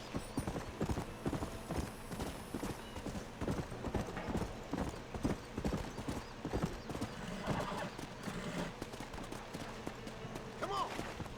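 In the video game Red Dead Redemption, a wild horse's hooves clip-clop at an even walking rhythm, close by, with the horse whinnying briefly near the end.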